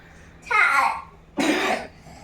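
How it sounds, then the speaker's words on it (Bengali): A young girl gives two loud, close, raspy coughs in quick succession in a quiet indoor room. "দেখো কাশিটা এখনও রয়েছে"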